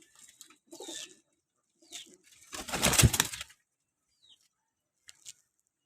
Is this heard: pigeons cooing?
yes